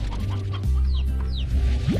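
A rooster clucking in the video game Slime Rancher, a few short close clucks and squawks over a steady low game hum.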